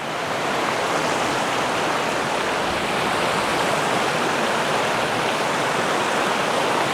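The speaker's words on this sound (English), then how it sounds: "Oh, look, river." Mountain river flowing over rocks, a steady, loud rushing wash that fills the scene without pause and with no talk.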